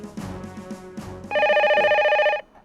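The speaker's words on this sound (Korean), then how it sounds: "걸려온 한 통의 전화." A telephone rings with an incoming call: about a second of loud, warbling electronic ringing follows a short stretch of other tones.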